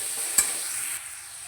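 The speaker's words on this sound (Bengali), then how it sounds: "ডালটা খুব ভালো করে লাল লাল করে ভেজে নেব।" Soaked lentils fry in mustard oil in a wok with a steady, close hiss of sizzling, broken by one sharp spatula scrape partway through and a slightly quieter simmer afterward.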